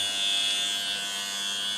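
A window-cleaning lift on the side of a residential building runs with a steady, continuous electric whine and hum, constant in level for the short stretch, with no talk over it.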